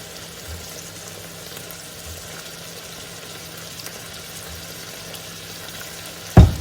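Beef steak frying in a pan, a soft steady sizzle and crackle at close range, fairly quiet, ending with a brief sharp knock.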